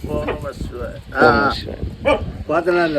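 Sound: dog barking

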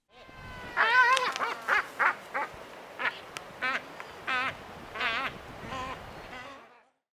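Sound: albatross call

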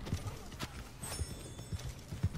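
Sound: horse neighing and hooves in a video game

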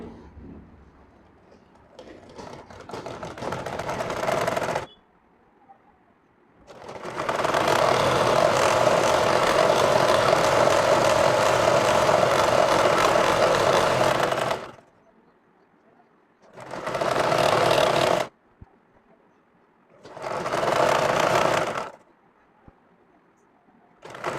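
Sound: sewing machine stitching salwar leg hem

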